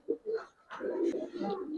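A Jabra pigeon coos in a few soft, low throaty notes, close by and fairly quiet, with faint human voice sounds in the background.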